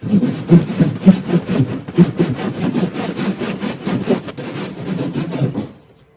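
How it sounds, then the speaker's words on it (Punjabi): A hand saw cuts through wood while fitting a fridge into a Ford Ranger pickup for camping, with steady back-and-forth rasping strokes close up that stop abruptly at the end. "ਇੰਨੀ ਲੱਕੜ ਤਾਂ ਕੱਟ ਹੀ ਲਵਾਂਗੇ"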